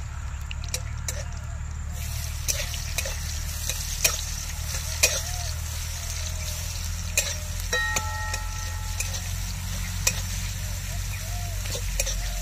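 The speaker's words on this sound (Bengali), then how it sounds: "পেঁয়াজটা একটু লাল লাল করে ভাজা হয়ে যাক" Onions frying in hot oil with whole cumin seeds, a steady close sizzle with scattered crackles and occasional stirring scrapes, under a low continuous hum.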